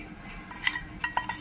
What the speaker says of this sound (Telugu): ఇప్పుడు ఇది మనం కంటైనర్లోకి తీసుకోవాలి సర్వ్ చేసుకునేందుకు.